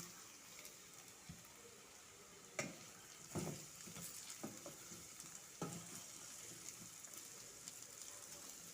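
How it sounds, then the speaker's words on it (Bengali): Chopped capsicum frying in a pan with onions, a low steady sizzle broken by a few sharp clicks and scrapes of stirring, with no voices. "ক্যাপসিকাম তিন মিনিট ভেজে নিলাম"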